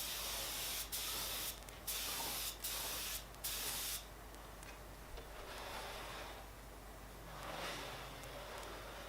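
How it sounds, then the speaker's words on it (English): Several short bursts of aerosol furniture lacquer spray hiss in quick succession onto a wooden canister box, then a quieter, longer hiss continues faintly, close to the microphone. "And spraying him in with furniture lacquer."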